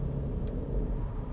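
A car drives through Tokyo streets, its engine and road noise a steady close rumble with a slight rise in revs, with no voices over it.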